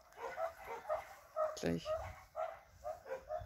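Dogs give short yips and soft barks in a repeating pattern, close by, while someone talks over them.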